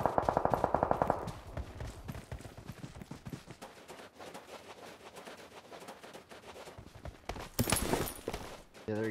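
Rapid automatic gunfire in PUBG Mobile on the Miramar desert map, a burst of sharp shots up front followed by scattered distant firing and footsteps, with a loud rush of noise near the end.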